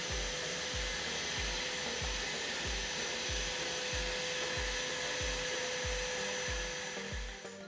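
A shop vacuum used as a blower feeds Airsled hover blades moving furniture over carpet, a loud steady whooshing drone with a regular rhythmic thumping pulse running underneath throughout.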